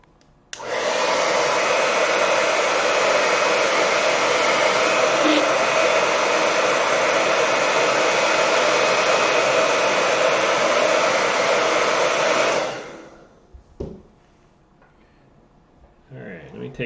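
A hair dryer blows on a watercolor painting to dry it, a loud, steady whooshing roar running about twelve seconds before switching off, followed by a brief clunk and quiet handling sounds.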